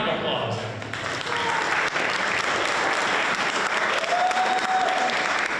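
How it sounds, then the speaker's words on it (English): Steady applause from an audience at a historic tavern trail talk about revolutionaries of Western Dutchess, dense clapping filling the room for the whole stretch, with a few voices faintly under it. "A round of applause."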